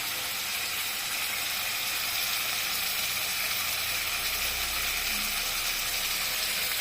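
Hilsa fish frying in a pan of oil over a gas flame, a loud steady sizzle that holds unbroken throughout, close and alone with no voices.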